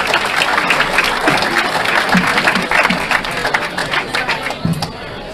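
A crowd at a Billiards World Cup 2021 match applauds steadily for several seconds in a dense wash of clapping, which thins into scattered claps toward the end.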